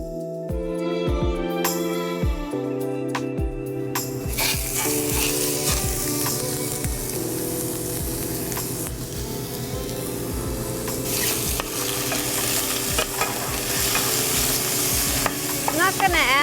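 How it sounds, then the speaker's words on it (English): Chopped ingredients sautéed in a pan, with continuous loud sizzling and frying plus repeated stirring scrapes throughout, close up and alone with no talking. "I'm going to do a quick saute in the pan."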